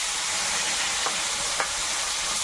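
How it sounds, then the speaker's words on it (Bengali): Koi fish frying in hot oil in a wok give a loud, steady, close sizzle that hisses continuously throughout, with a couple of faint pops and no voices. "দুই কড়াই মাছ ভেজে নেব এই মাছগুলো আগে দিই"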